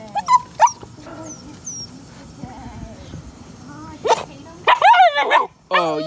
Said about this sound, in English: Oh, you get barks?